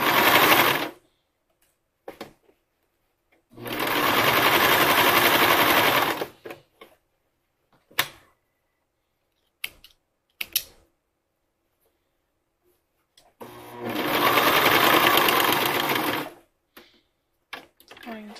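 A sewing machine stitches a bra in three separate runs of steady, rapid mechanical whirring, with quiet gaps and soft handling clicks between them.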